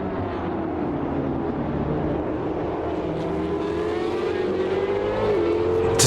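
A field of GT race cars in the video game Automobilista 2, lapping the Daytona circuit: a continuous loud engine drone that rises steadily in pitch with a sharp shift near the end, heard alone with no talk.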